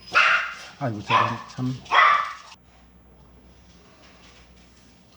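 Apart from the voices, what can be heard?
pet dog barking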